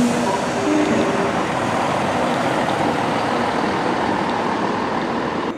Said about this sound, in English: That Class 170 Turbo Star right there used to be 170631, which was a stalker unit.